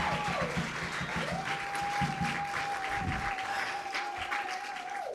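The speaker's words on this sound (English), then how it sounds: "one more round of applause for Samm" Audience applause at a poetry festival, steady and sustained for several seconds at moderate volume, filling the room before tapering off, with a held tone running beneath it.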